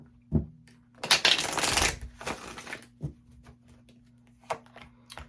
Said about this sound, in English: Shuffle my deck here.